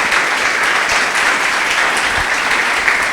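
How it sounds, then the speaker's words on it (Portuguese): A congregation at a church service claps in praise, a steady, dense burst of hand clapping filling the room without pause. "Louve a esse Deus com suas palmas."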